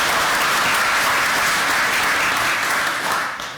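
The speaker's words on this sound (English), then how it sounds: "one more round of applause, please, ladies" An audience applauds at a city council meeting in Weatherford, giving a sustained round of clapping. The dense, even applause fills the room and starts to thin out toward the end.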